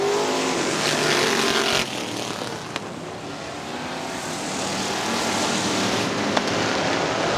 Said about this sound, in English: Some nice racing going on out there. Nice, close, good racing.